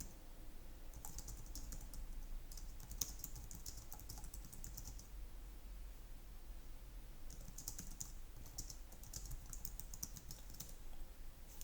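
Steady typing on a computer keyboard, two long bursts of quick, close key clicks separated by a quieter pause, over a low background hum with no talk.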